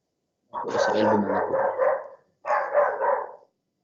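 A dog in the street gives two drawn-out barking bursts close to the microphone, the first longer than the second, with a short pause between them and quiet before and after.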